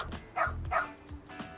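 Rampo the dog in the video game Lost Judgment gives a few short, close barks in quick succession, with faint soft yips between them.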